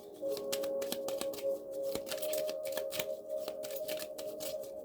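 Tarot cards are shuffled and handled close by, a rapid run of crisp papery flicks and snaps with a faint steady hum underneath and no talking.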